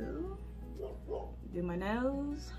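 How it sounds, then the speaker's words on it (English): A dog whines and yips nearby in a short, rising series of calls, overlapping someone talking softly during her makeup routine. "And of course, that's my dog."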